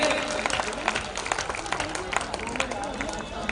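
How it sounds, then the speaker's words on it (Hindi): Audience at a Jhuggi Samman Yatra political gathering applauding district president Vikesh Sethi, with a burst of lively clapping and crowd noise mixed with a speaking voice, moderately loud and continuous. "एक बार आप लोग जोरदार ताली बजा करके अध्यक्ष जी का अभिनंदन कीजिए"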